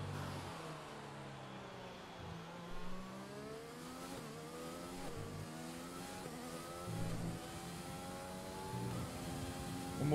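An F1 car in F1 2020 accelerating through its gears, the engine note climbing and dropping repeatedly as it shifts, steady and moderately loud with no talk.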